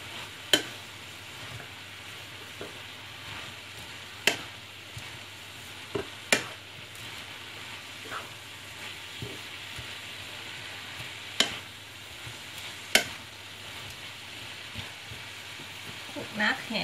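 Chinese cabbage stir-fried with pork in a pan gives a steady, close sizzle, with sharp spatula clicks and scrapes coming at irregular intervals.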